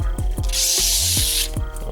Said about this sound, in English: Spray a little olive oil on here.